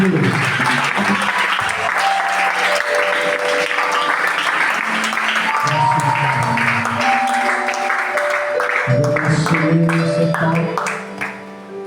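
A church congregation applauds in acclamation, sustained dense clapping that fills the room for about twelve seconds, with voices and music mixed in, before it briefly dips at the end.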